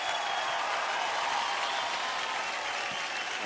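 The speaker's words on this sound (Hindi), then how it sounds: "बैंड जोरदार तालियां हमारी बैंड के लिए" Loud, sustained applause from a studio audience fills a TV singing show after a band performs, a dense, even roar of clapping with no talk over it.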